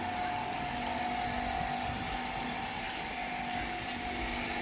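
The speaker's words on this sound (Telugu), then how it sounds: "చెట్లకు నీళ్ళు కొడుతున్నావా" Plants in a garden are watered with a hose, giving a constant rushing, pump-like gush of running water with a faint steady hum underneath, even and moderately quiet throughout.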